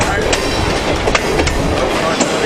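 A Halloween passenger train on the Saint Mary's railroad rolls along the rails with a continuous loud rumble and regular clickety-clack wheel beats heard from inside the car, with people talking faintly.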